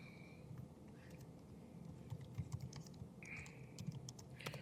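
Computer keyboard typing while code is written, a steady run of quiet, irregular key clicks with scattered louder taps, close and alone with no talk.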